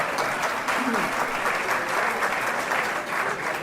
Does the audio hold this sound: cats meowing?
no